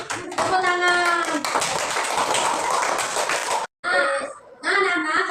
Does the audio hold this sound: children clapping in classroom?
yes